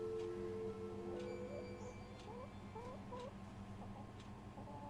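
Chickens clucking in the point-and-click adventure game The Excavation of Hob's Barrow, a series of short soft clucks over a low steady ambient hum, with faint chime-like tones above.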